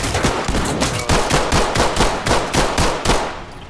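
A rapid string of about a dozen close, loud gunshots fired in quick rhythm in the tactical shooter game Ready or Not, sharp evenly spaced cracks with no talking.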